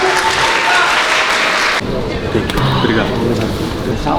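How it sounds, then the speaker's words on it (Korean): Loud crowd applause for kickboxer Nika after a kickboxing-versus-judo match, a dense burst of clapping that drops sharply in level about halfway and carries on more thinly beneath murmuring voices. "최선을 다해 싸워준 니카 선수께 큰 박수 부탁드리겠습니다"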